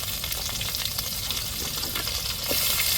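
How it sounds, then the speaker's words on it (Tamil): Onion, tomato and chili sauté in a pan alongside okra for a prawn curry, giving a loud, steady sizzle with soft stirring scrapes and no talk. "வெங்காயம் தக்காளி மிளகா மூணையும் நல்லா போட்டு விதக்கி வச்சுருவோம்"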